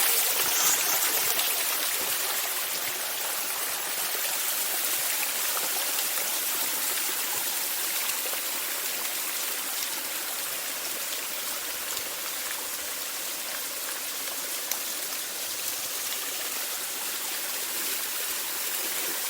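A small waterfall runs steadily into a pond where goldfish gather, a constant hissing rush of falling water heard close and even throughout, with no voices.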